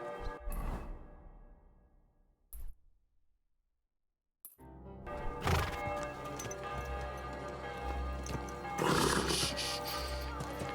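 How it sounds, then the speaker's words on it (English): A horse in the medieval game Kingdom Come: Deliverance II snorts and whinnies in short bursts, with a brief silence and hoof sounds among layered game ambience and music. "Easy, good horse."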